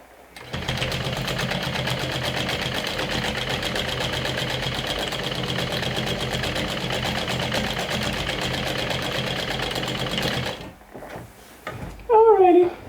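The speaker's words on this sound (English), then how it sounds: "we're going to be sewing all the layers together with 1/4 of an inch seam allowance" A sewing machine runs steadily, stitching all the layers of a fist pouch together for about ten seconds, then stops and the machine clatters briefly before a voice speaks.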